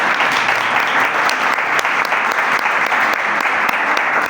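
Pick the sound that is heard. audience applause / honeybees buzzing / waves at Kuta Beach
audience applause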